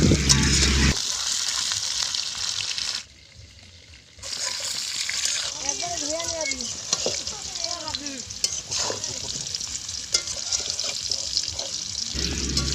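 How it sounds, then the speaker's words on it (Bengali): Cut potatoes frying in mustard oil in a village kitchen, a bubbling sizzle with stirring scrapes that drops out briefly, then returns with a faint voice in the background. "সেই আলুগুলো আমরা তেলে ভেজে নিচ্ছি।"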